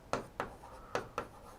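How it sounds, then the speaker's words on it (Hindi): Chalk or marker strokes on a board during a classroom lecture, four short scratchy taps in a quick uneven rhythm, close and quiet, with no talking over them. "मैं यहां पे एक बार लिख रहा हूं"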